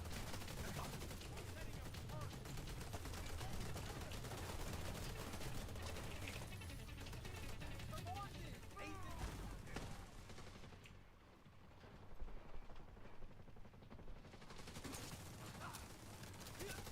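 Video game gunfire crackles in quick, scattered bursts and rattling volleys, muffled and fairly distant beneath a busy background, with faint voices mixed in.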